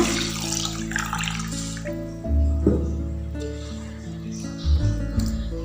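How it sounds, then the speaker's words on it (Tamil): Water runs and splashes over rice in a container in bursts, with a louder gush near the middle and again toward the end, close to the microphone. "இப்போ நம்ம தண்ணி சேர்த்து ஊற வச்சுக்கலாம்"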